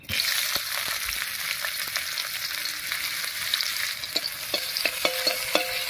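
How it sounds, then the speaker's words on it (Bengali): Chopped onion frying in hot mustard oil in a kadai, a steady loud sizzle with scattered scraping and stirring clicks from a spatula, close up and without any talking. "তেল গরম হয়ে গেছে, তেলের মধ্যে দিয়ে দিচ্ছি পেঁয়াজ কুচি।"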